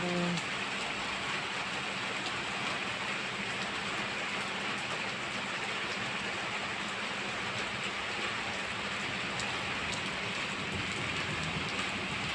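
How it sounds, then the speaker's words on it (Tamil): Steady rain pours down, a dense unbroken hiss of falling water with a low rumble underneath, constant throughout. "இன்னைக்கு ஃபுல்லாகவே மழை தான்"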